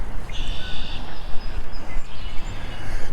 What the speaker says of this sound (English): Blackbirds all around making their calls.